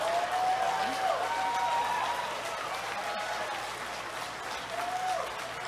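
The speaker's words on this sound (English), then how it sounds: "that's the first time people have applauded Archwing." An audience at TennoCon 2019 applauds a modular Archwing reveal during a Warframe art panel, with dense, sustained clapping from a large crowd throughout, a few voices and cheers mixed in.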